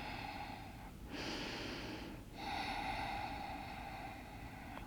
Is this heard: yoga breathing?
yes